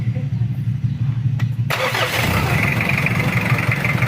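A Mitsubishi Challenger's 4M40 diesel engine cranks briefly and catches, then settles into a loud, steady rumbling idle close by.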